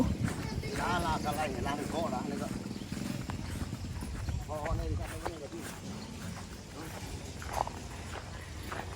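Horse hooves clip-clop at an irregular pace as the horse is brought pineapple, moderately loud and partly masked by people talking over them for most of the stretch.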